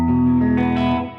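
An electric guitar with both humbucker pickups on, a single strummed chord ringing briefly and then fading, close and fairly loud.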